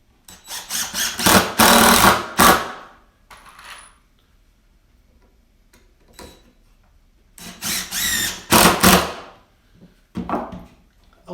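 A power drill drives 2.5-inch screws through shelf supports into 2x4 uprights in two separate bursts of grinding, rattling whir, each preceded by short clicks, with quiet handling noises between.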